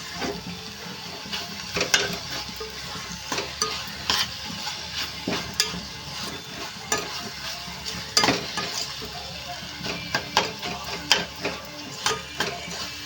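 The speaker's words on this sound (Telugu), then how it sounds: "ఇప్పుడు అంతా వేగిపోయింది కదండి" Chili powder and spices frying in oil in a pan for a capsicum tomato curry, giving a close sizzle under frequent spoon stirs and scrapes that come in irregular bursts. No one speaks.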